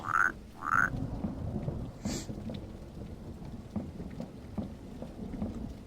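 Two short, bright croaks of a frog in the video game Dentures and Demons right at the start, then a steady rumbling wash of rain with faint crackles underneath.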